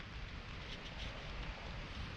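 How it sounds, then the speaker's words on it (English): Rain falls steadily beside a lake during a fishing trip, a soft, even hiss of drops with no pauses and no voices. "And the rain seems like it's setting in."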